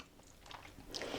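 Quiet close-up biting and chewing of pasta in a vegan marinara made with plums instead of tomatoes, a few soft moist crunches and mouth sounds building slightly toward the end, with no talking.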